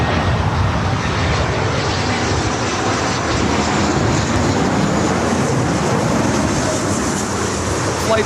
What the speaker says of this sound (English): Global 5000 coming from Burbank.